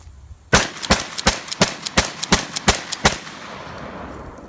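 A Winchester 1300 shotgun fires a fast string of about eight loud, sharp blasts spaced roughly a third of a second apart, each ringing briefly before a fading outdoor tail.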